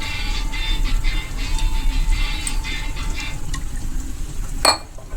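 Water poured into a large pot of chicken biryani with orange colouring, a continuous filling gurgle that ends with a short metallic clink from the pot.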